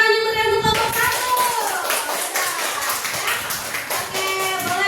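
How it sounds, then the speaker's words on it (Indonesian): Classroom group applauding a presenting student group during a lesson, a dense patter of many hands clapping steadily for several seconds, with a voice briefly audible at the start. "Beri tepuk tangan juga untuk kelompok 1."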